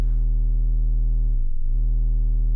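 A steady, very low bassy LFO tone from a Bastl Kastle synthesizer hums on alone, with a brief wavering dip in pitch midway before settling back.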